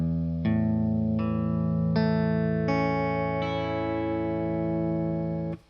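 Guitar strings in open G tuning with a capo, plucked one after another, each note ringing out and stacking into a sustained, bright, distorted open chord that fades at the end.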